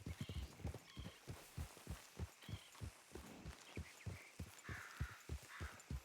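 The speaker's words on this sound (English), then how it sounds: "You seem to be struggling with your horse." Horse hooves in Red Dead Redemption 2 thud in a steady, even rhythm of soft low clip-clops, about three per second, quiet and close with no talking.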